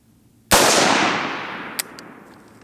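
Single loud, close AR-15 rifle shot during a reliability test, a sharp crack with a long fading tail and a small click afterward.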